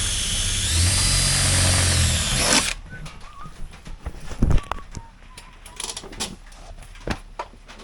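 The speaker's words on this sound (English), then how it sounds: "So, the way we do it is drill some holes." A power drill whirs steadily for a few seconds, then stops, followed by scattered clicks, knocks and handling noises nearby.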